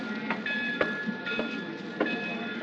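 A passenger train rolls along the rails with steady rumble and a sharp, regular clickety-clack of wheels over rail joints, close and continuous without voices.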